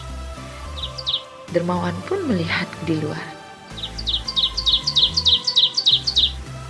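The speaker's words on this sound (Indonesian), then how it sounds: "Terdengar suara cicitan seekor burung." A sparrow gives quick, bright chirps, a short burst early on and then a rapid series of repeated tweets near the end, with a narrator speaking in between.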